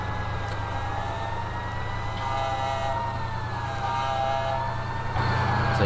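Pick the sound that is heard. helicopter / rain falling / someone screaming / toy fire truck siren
toy fire truck siren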